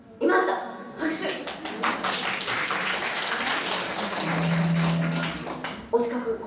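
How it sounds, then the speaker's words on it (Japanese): Audience applause at a shinobue bamboo flute concert for a general meeting in Oguchi, steady clapping from a hall full of listeners that swells in and fades out, with a voice heard briefly at the edges. "拍手。"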